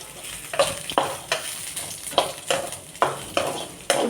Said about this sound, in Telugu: చూసారా, చక్కగా ఫ్రై అవుతున్నాయి